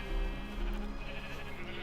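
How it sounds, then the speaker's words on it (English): Sheep bleating in the Minecraft CrazyCraft modpack, a short, steady, fairly loud bleat with a droning tone over background game noise. "Is there a sheep massacre going on nearby?"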